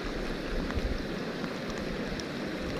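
Steady rain pours down in a dense, even hiss over a rural spot in northeastern Thailand, with occasional louder drops landing close by.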